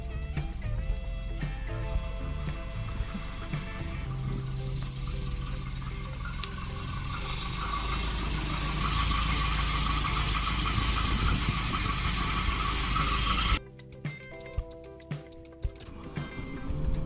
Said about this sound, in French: Il est temps de démarrer et faire un contrôle d'éventuelle fuite